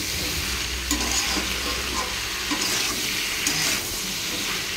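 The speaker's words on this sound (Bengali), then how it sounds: "ভালো করে সবজিগুলো একসাথে কষিয়ে নেব" Prawns and vegetables with tomato and salt sizzle steadily while being stirred and sautéed in a pan, giving a continuous close frying hiss broken by a few louder scraping stirs, with no talking.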